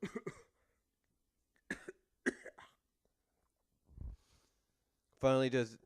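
A voice imitates coughing with a few short, breathy hacks spaced apart, followed by a brief burst of speech.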